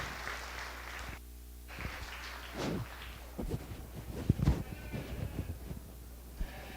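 Scattered applause rises from the crowd at a county sheep show, uneven and moderately loud, with a sheep's bleat and shuffling from the show ring mixed in.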